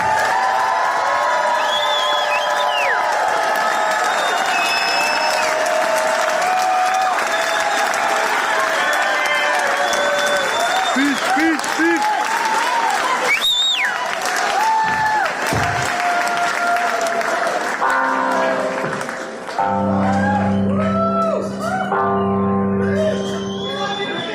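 Concert crowd applauding and cheering loudly and steadily as a musician is introduced at a rock show, with whoops and shouts rising over dense clapping, a voice briefly over it, then music starting near the end.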